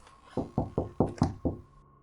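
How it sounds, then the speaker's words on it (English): Six firm, evenly spaced raps on a door ring out close and loud as a horror story sound effect, with the pace quickening slightly toward the end. "I had just set the can back upright when the knocking sounded again."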